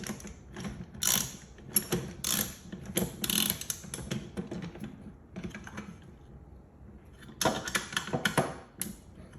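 A ratchet tightens the drive chain on a rebuilt original R2-D2 scavenger drive, producing quick bursts of crisp mechanical clicking close by, pausing briefly before another burst.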